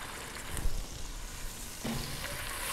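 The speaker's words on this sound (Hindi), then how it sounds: "हल्की आंच पर 1 से 2 मिनट तक हम वेजिटेबल्स को सौते करेंगे।" Vegetables sautéing in a pan over low heat for a restaurant-style chicken Manchurian, giving a soft, steady sizzle that thickens slightly near the end, with no talk over it.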